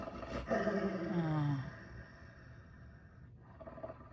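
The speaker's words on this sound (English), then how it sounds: "Excuse the growling, somebody's getting upset." A dog indoors lets out a low, drawn-out growl lasting about a second, loud and close, then fades into quiet room tone with a faint rustle.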